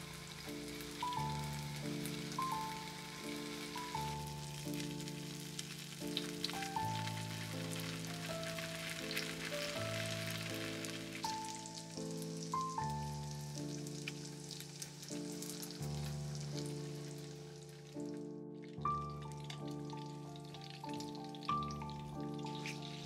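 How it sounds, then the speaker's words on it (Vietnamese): Blocks of tofu fry over low heat in oil in a pan, a steady soft sizzle and crackle that runs quietly for over twenty seconds beneath gentle background music. "Mình cho đậu vào chiên với lửa nhỏ để miếng đậu của mình nó được vàng và giòn từ bên ngoài vào trong"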